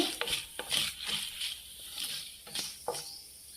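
Mustard seeds, cumin and urad dal fry in hot tempering oil, giving a steady close hiss with scattered small pops and crackles and no one speaking.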